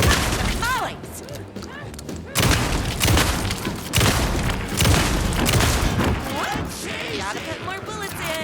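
Gunshots are fired at a monster in the Alan Wake 2 game, a run of heavy booming shots and impacts spread through the clip, mixed with swooping effects and other game noise.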